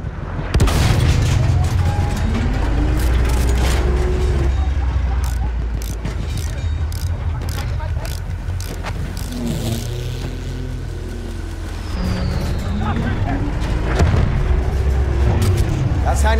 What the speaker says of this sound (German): Panzer!